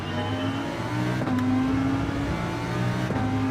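A Lamborghini race car engine in Gran Turismo 7 holds a steady, loud drone with tonal shifts as it changes pitch, heard alone with no speech.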